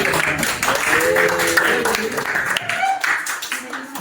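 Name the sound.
class applauding a student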